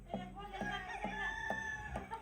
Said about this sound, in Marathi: परत कोंबड्या आता इकडे उचलल्या.